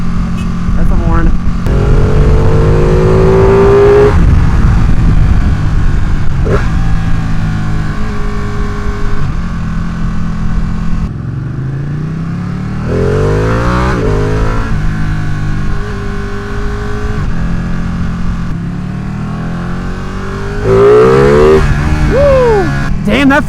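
A Ducati Panigale 959 sport motorcycle pulls hard in first gear, its engine note rising in pitch through strong revving sweeps over steady road and wind noise, with a horn blaring briefly and a rider talking at points.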